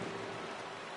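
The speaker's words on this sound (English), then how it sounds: "now it's starting to rain." Rain falls on the Citi Field ballpark in the baseball video game MLB The Show 17, a steady, even hiss of moderate loudness with no voices.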